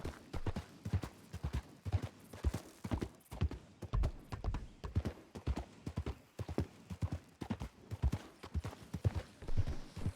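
Horse hooves clip-clopping at a steady walking rhythm in a Wild West role-play video game, close and fairly quiet, with an even repeated beat throughout.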